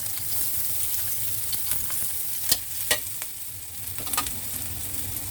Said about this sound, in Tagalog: first maglalagay tayo ng oil. Ilagay natin yung onion at garlic.